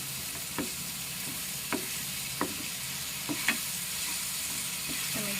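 Garlic paste is stirred into frying dahi tikhari, a steady sizzle underneath a few soft scrapes of the spoon against the pan, close and without talk.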